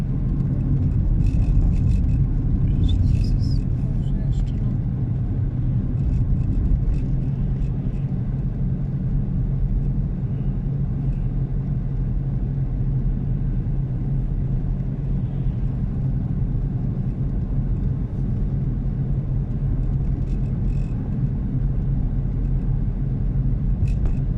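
A car rolls steadily along a road through Radzionków, heard from inside as a continuous low engine and road rumble with a faint hiss of tyres, close and unbroken throughout.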